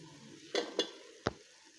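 A spoon scrapes through a pan of masala with potatoes, peas and soya chunks for veg biryani, giving three quick, faint stirring strokes over a low kitchen hush.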